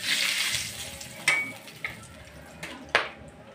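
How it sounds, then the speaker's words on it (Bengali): Whole cinnamon, a clove, crushed cardamom pods and a torn bay leaf sizzle steadily in hot oil, a bright frying hiss that fades gradually, broken by a few sharp pops and clinks of a utensil against the pan. "তেলটা গরম হয়ে গেলে এক এক করে ফোড়ন দিয়ে দিব।"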